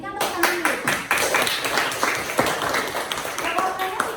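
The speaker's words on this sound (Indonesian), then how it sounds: "Berikan tepuk tangan dulu." Classroom clapping for two students, a lively round of hand claps in quick uneven bursts, close and fairly loud, with voices mixed in.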